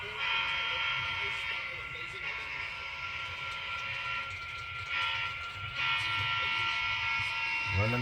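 Model train running on an operating layout, a steady electric motor whir and rolling hum sustained throughout at close range, with a person talking quietly over it at moments.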